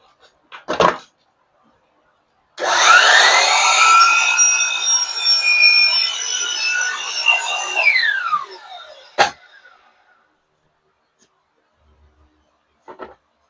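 A saw, likely a power miter saw, cuts a piece of baseboard trim: it spins up with a whining, rising tone, holds a loud buzzing cut for about five seconds, then winds down, with short thumps before and after.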